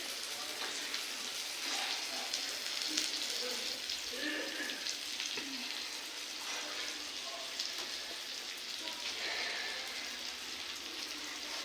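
Egg cooking in butter in a pan, a faint, even sizzle heard close, with someone talking over it.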